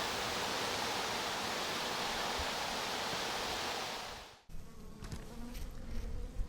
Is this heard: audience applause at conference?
no